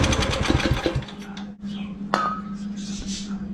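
A small engine, not run in over seven years, catches and runs with a rough, fast chugging that settles into a steady hum, with a sharp clank partway through.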